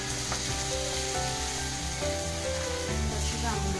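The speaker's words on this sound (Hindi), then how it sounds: "अब हम इसमें डालेंगे लहसुन अदरक का पेस्ट।" Garlic-ginger paste hits a pan of frying minced meat, producing a loud, steady sizzle throughout, with soft background music beneath and no speech.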